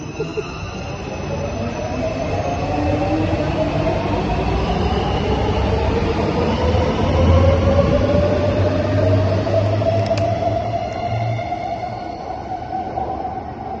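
A subway train rumbles loudly past with a rising mechanical whine and faint wheel squeal, continuous and close throughout, with no talking.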